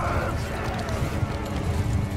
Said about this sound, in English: Right, it's time to send the horse archers out.